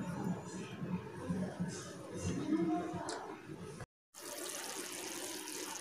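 Water poured into a pan of vegetables for suji pulao, a continuous splashing pour with someone speaking over it, broken by a short cut to silence before the pouring resumes.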